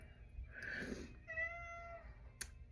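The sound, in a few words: cat meowing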